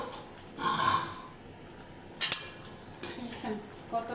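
A lid set onto a cooking pot of simmering lentil dal with ash gourd: two brief metallic clanks in a quiet kitchen.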